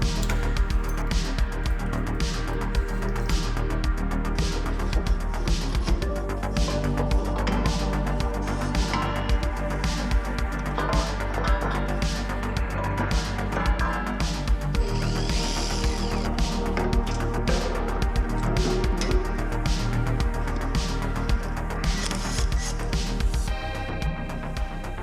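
Ratchets, wrenches and a power tool work on stubborn exhaust extractors being pulled from a V8-swapped Mazda MX-5 Bullet Roadster, with dense metallic clicking and mechanical whirring that stays loud and busy throughout, with no voices.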